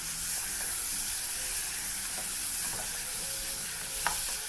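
Drained potatoes and their liquid being stirred in a pot for a veggie githeri, a steady hissing simmer with soft occasional scraping, no voices.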